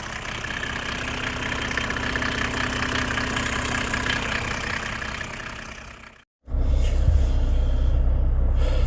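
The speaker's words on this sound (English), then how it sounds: "That's the legendary OM606 6-cylinder turbo diesel." Idling Mercedes-Benz OM606 six-cylinder turbo diesel in a W210 E300, a loud, steady old-school diesel clatter with a low rumble, then a brief dropout before the engine noise returns heavier and closer.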